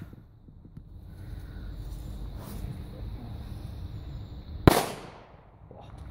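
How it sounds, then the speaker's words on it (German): An old B-Böller firecracker from around a 1997 batch goes off outdoors as one sharp, loud bang that fades into a short echo, preceded by quiet wind rumble. "Ein B-Böller. Ungefähr 97er Charge."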